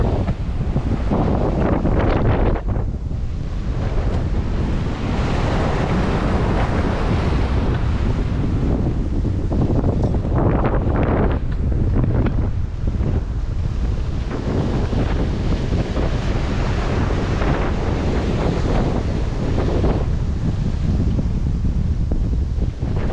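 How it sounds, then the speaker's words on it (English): Loud, steady wind of over 30 knots roars across the microphone aboard a Rival 41 sailboat, with rushing waves and surf underneath; a continuous, buffeting gale with no voices. "Back up to 30 plus knots of wind, but it's behind us"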